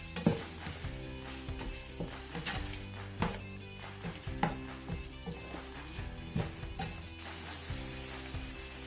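Green beans and tofu stir frying in a pan, a steady sizzle with irregular clacks and scrapes of stirring throughout, close and moderately loud with no talk.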